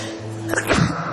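A single sharp sneeze bursts out near the middle, close and fairly loud, against a quiet indoor room tone with a faint steady hum underneath.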